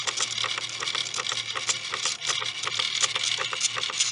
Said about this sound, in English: All the gears and the parts spinning around once again.